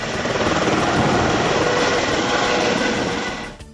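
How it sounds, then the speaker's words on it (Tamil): A helicopter on a joyride at Kovalam near Chennai roars close by, its rotor blades thumping in a fast, steady beat that fades slightly at the end. "சென்னையை அடுத்த கோவளத்தில் மீண்டும் தொடங்கியது ஹெலிகாப்டர் சவாரி"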